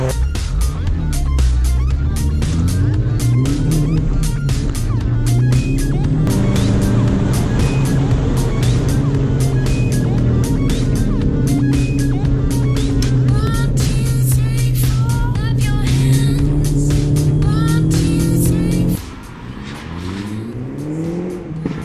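Race cars at a Goodwood Motor Circuit track day in West Sussex, engines roaring and revving loudly and continuously as they drive past close by, with rising and falling pitch and a drop near the end.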